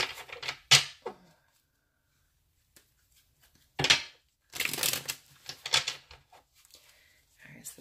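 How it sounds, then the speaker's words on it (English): A deck of tarot cards being shuffled gives short bursts of riffling and slapping, close by and separated by quiet gaps, with no talk. "let me shuffle a few times"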